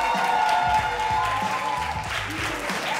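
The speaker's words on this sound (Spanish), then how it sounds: "Un fuerte aplauso, muchachos, para los panas de Street." Audience applause and cheering at a street-style competition event in Caracas, a thick crowd wash of clapping under a faint voice and background tones, steady and loud throughout.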